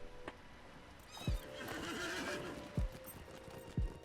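A horse in a video game lets out a loud, drawn-out whinny close by, bracketed by three heavy hoof thuds spaced about a second or more apart over a low ambient background.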